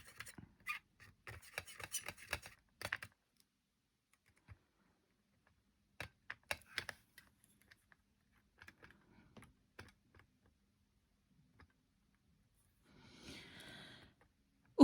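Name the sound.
mixing paint with a palette knife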